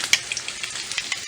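Eggs, eight of them, frying in rendered sausage fat in a hot pan, a soft steady sizzle broken by sharper crackles and spatters, close by with no talking.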